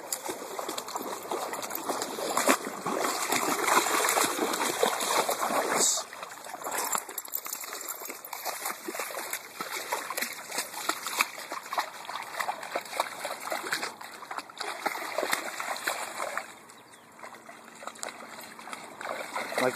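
Water splashes and sloshes continuously as a Boxer dog swims in a lake, a moderately loud, busy wash of sound that eases off toward the end.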